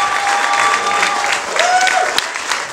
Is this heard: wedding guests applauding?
yes